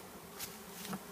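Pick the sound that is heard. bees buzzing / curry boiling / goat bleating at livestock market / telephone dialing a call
bees buzzing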